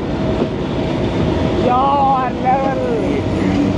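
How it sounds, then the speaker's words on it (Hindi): A safari train engine reversing along the track near Attock Bridge, with a steady rumble of wheels and rolling stock, a few squealing tones from the rails, and someone talking over the noise. "अच्छा जी, अब हम वापस रिवर्स में जा रहे हैं और अपनी ट्रेन के आगे जाकर लगेंगे।"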